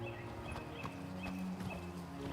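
Hooves of a horse in the video game Oblivion clopping along at a walking pace, soft and fairly faint, layered over a low, steady bed of game music.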